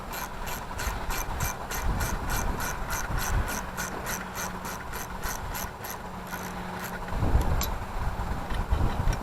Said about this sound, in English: tighten the nuts down against the pressure plate and slowly draw it down a little bit at a time